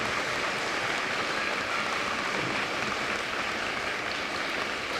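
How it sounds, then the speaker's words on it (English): Applause from a high school Veterans Day assembly audience fills the room, a steady dense wash of clapping that holds evenly throughout without a break. "Let's give them all a round of applause"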